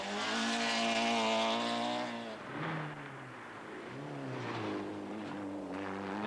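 A Ford Escort RS 2000 rally car at the 1996 Rally de Hannut revs hard in a sustained high engine whine, drops briefly as it shifts, then climbs again, loud and fairly close with no voices.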